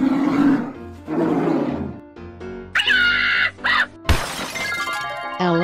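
A polar bear roar in a children's animal slide game, a loud growling roar amid busy cartoon music, chimes and a crashing shatter, with a voice briefly heard.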